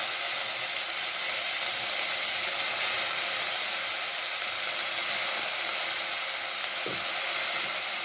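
Pirandai (adamant creeper) soaked in tamarind, sautéing in a pan with coconut, giving a steady, broad sizzling hiss close up that continues throughout, with one faint knock near the end and no voice.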